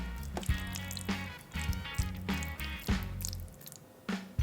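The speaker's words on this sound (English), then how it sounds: "Use a spatula to break up the cheese and mix it all together." A spatula breaks up cheese and stirs it into bolognese sauce in a pan. Close, wet squelching and sticky smacking sounds come in irregular strokes roughly every half second, with no voices.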